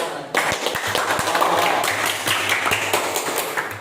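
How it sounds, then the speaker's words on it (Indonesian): Junior high students in a classroom lesson clap their hands together in a brisk, scattered round of claps that starts suddenly and continues for several seconds, fairly close. "Tepuk tangan"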